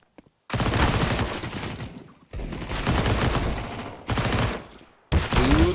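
Submachine gun fire in Counter-Strike: Global Offensive on the Inferno map comes as rapid automatic bursts separated by short silences, loud and close.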